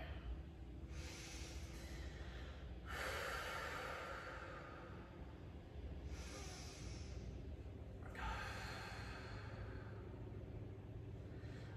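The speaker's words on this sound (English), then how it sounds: "finding that ujjayi breath. This is that breath of life that feels so good." Slow ujjayi breathing during a yoga session, soft rhythmic inhales and exhales in a steady four-count pattern, breathy and faint over a constant low background hum.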